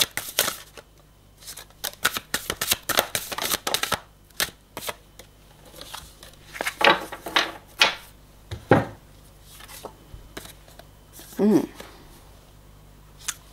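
Tarot cards shuffled for a reading, a run of quick crisp riffles and slaps, close and fairly loud at first, then scattered softer card handling with pauses.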